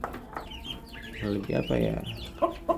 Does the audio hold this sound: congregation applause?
no